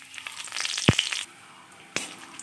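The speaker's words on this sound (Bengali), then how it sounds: "এবার ওই তেলে ফোড়ন দিয়ে দিচ্ছি শুকনো লঙ্কা, তেজপাতা, গোটা জিরা, গোটা এলাচ আর দারচিনি।" Whole spices (dried chilli, bay leaf, cumin, cardamom, cinnamon) frying in hot oil, giving a close, brief sizzle with sharp pops and crackles, one loud snap near the middle and another shortly after.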